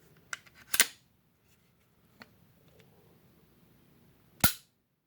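A Glock striker-fired pistol dry-fires onto a snap cap, giving a sharp, close click early on and another near the end, with faint handling noises in between.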